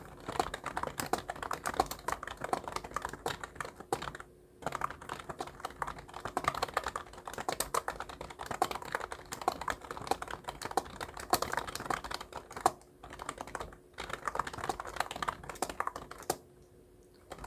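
Fast, steady typing on a computer keyboard in the Hangul 2022 word processor: dense clicking keystrokes up close, continuing for about seventeen seconds with a few brief pauses and no talk.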